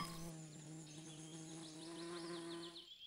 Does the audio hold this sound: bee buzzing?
yes